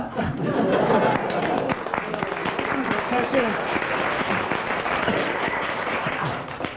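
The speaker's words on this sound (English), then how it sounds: "I don't know why you clapped." A studio audience on a radio panel comedy show claps steadily in moderate applause, with scattered chatter and light laughter mixed in, fading slightly toward the end.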